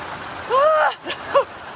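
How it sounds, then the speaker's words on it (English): Heavy rain pours onto a concrete slab, making a steady broadband hiss throughout, with brief voiced sounds rising over it partway through. "it's now bucketing down with rain all over our slab"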